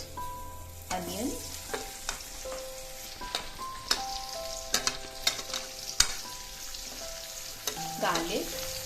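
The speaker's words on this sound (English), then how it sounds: "I add onion," Onion frying in a pan after mustard seeds, a steady sizzle stirred with clinks of a utensil against the pan, sharp scrapes and taps scattered over the crackle, close and moderately loud.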